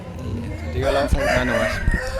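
An ekor lidi ornamental rooster crows at a chicken contest in Lamongan, East Java, one loud, close, drawn-out call with a few short clucks and thumps near the end.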